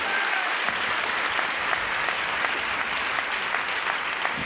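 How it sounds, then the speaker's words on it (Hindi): A meeting audience claps steadily and fairly loudly, a dense even patter of many hands that holds unbroken from start to finish with no voices over it. "ताली होना चाहिए सर"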